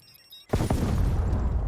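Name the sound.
gas explosion in Call of Duty video game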